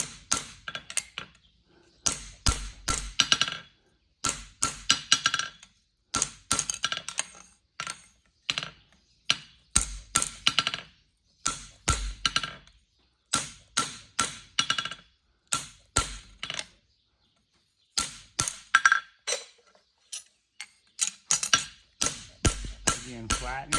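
A hammer drives a punch into the nail holes of a horseshoe. Sharp metallic strikes land in quick rhythmic clusters separated by brief silences, repeating throughout at close range.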